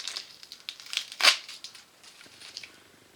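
Close, soft crinkling and rustling of packaging material with one louder crunch partway through, quiet overall.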